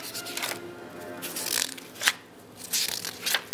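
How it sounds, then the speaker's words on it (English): Pages of a handmade paper Christmas organizer, made from Helmholtz paper, are flipped quickly: several crisp rustling bursts and soft flaps, fairly close and moderately loud, with no talking. "So I'll just flip through this one really fast."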